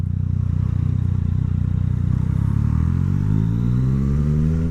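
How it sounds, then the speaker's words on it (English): A Yamaha MT-09 motorcycle with a full Akrapovic exhaust rumbles steadily and close, its deep engine note holding, then shifting in pitch as it runs on cruise control with the throttle untouched. "Can you guys just hear that rumble?"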